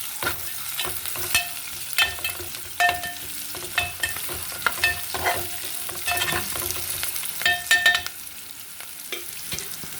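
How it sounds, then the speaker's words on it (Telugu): Foxtail millet frying in a silver kadai, a bright continuous sizzle with rapid irregular clinks and scrapes from a spoon stirring the grains throughout, close and without talking. "ఎంత బాగా ఫ్రై అవుతున్నాయి కదా"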